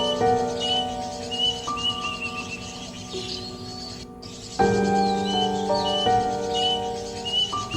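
A wikwik bird calls in repeated chirping notes over a dense, steady layer of other birdsong and insect buzz, with the calls fairly close and clear.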